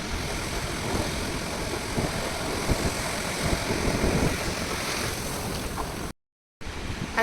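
Sea waves wash onto a beach near Konark in a steady, broad roar with swelling surges, loud and close with no talk, briefly cutting out near the end.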